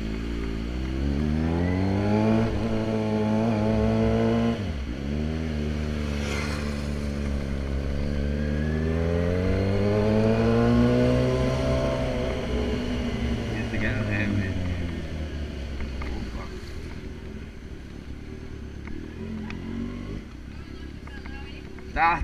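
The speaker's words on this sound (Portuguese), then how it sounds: "Escutou o barulho, pode crer que é a XJ, pai. É a XJ que tá passando." XJ motorcycle passing nearby with a loud, heavy engine, its pitch rising and falling as it approaches and goes by, drawn out over many seconds and then fading, with people talking over it.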